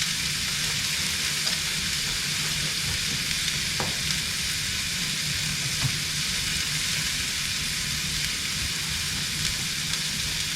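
Hamburger patties frying in a pan, a steady, dense sizzle and crackle that runs unbroken and close throughout, with faint occasional pops and no talking.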